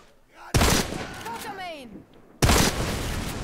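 Two abrupt, loud bursts of gunfire from the video game Deadfall Adventures, about two seconds apart, each followed by ringing decay, with a voice talking between them.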